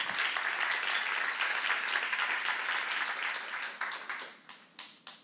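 A church congregation at a seminar bursts into dense, loud applause that holds steady, then thins out into a few scattered separate claps as it dies away.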